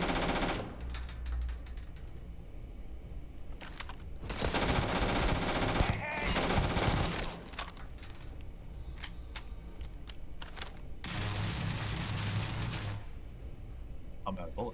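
Automatic gunfire in the video game Starfield, long loud rapid bursts of shots alternating with short pauses, under occasional game voices and other game sounds.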